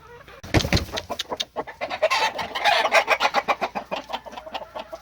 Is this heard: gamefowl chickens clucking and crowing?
yes